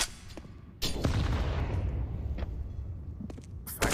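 Pistol shots ring out in a Counter-Strike esports match on the Overpass map, with a loud burst of several sharp cracks near the start followed by scattered single shots and a final sharp report at the end.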